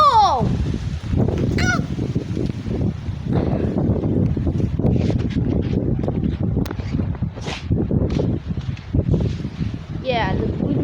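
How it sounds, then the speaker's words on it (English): Strong wind gusts roar and buffet an outdoor microphone during a windstorm, a steady, loud rush that never lets up, with someone talking over it and a few honking, squealing sounds in the background. "the wind gusts are strong"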